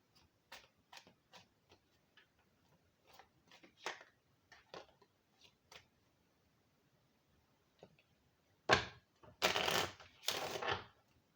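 An original Kipper card deck being handled and shuffled, soft quiet flicks and taps for several seconds, then a louder riffling burst of cards near the end, close, with no talking.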